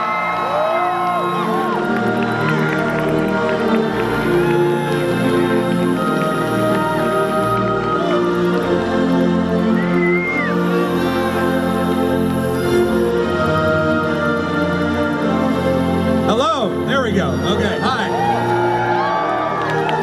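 A panel audience at a Jurassic Park anniversary celebration at Universal Studios Hollywood whoops and cheers for the director, the crowd noise loud and continuous under music, with someone speaking briefly near the end.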